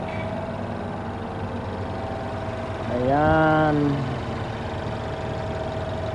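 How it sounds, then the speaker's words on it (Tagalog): Close up, a Mercedes-Benz C200 engine idles steadily after an oil pump control solenoid replacement, with a smooth even hum; midway a voice speaks briefly over it. "Pakikinggan lang natin kung gumanda yung andar ng makina."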